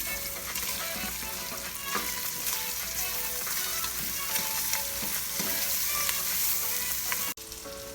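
Hot dogs frying in a pot for creamy Filipino sopas, giving a loud continuous sizzle with crackling pops and occasional stirring scrapes, cut off abruptly near the end.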